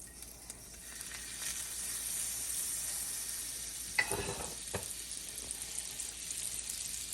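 Butter and oil sizzle steadily in a pan as masala cooks, a soft continuous crackle with a couple of sharp clinks partway through, and no voices.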